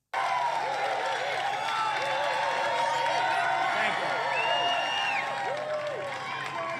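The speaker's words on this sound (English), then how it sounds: "The crowd excited that it may soon be the end of the rally," A large political rally crowd in North Carolina keeps up continuous cheering, whistling and applause, a dense, loud roar that stays even throughout with individual shouts poking above the wash.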